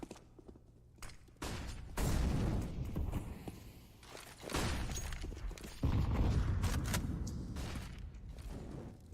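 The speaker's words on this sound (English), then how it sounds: "Several grenades going into the connector." Grenades thrown into the connector during a CS:GO match on Mirage, sharp bursts of blasts and crackling impacts in two loud clusters separated by brief quieter gaps, with mechanical clatter and footsteps.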